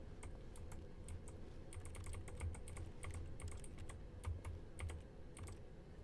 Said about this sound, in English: I like how my interaction sounds like a key. Like, I just took the keyboard with me. And I'm just, like, typing.